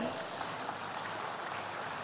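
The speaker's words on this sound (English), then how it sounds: "This also calls for a thundering round of applause, ladies and gentlemen." Sustained applause from the audience at a Pravasi Bharatiya Diaspora Divas event honoring women's leadership in diplomacy, a dense even wash of clapping throughout.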